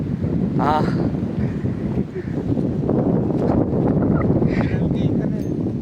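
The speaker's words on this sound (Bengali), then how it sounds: "আর দেখেন কত সুন্দর বাতাস হচ্ছে এই জায়গায়।" Strong wind in a garden buffets the microphone in a steady, loud rush, with brief faint voices in the background.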